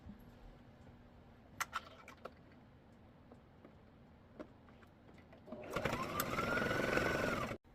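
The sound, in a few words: sewing machine stitching around a fabric pocket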